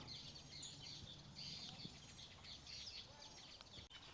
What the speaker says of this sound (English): A lot of birds there making a lot of noise.